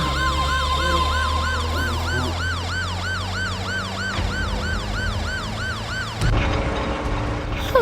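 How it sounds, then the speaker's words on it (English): Police siren wailing steadily in a rapid rising-and-falling pattern, loud and close over a low vehicle rumble for several seconds before an abrupt change in the background noise. "I'm hearing a siren sound. Yeah, yes, it's police."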